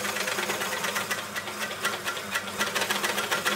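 An Elna L4 overlocker serger sewing fabric runs as a loud, continuous rapid mechanical chatter, close up and steady throughout, with no speech.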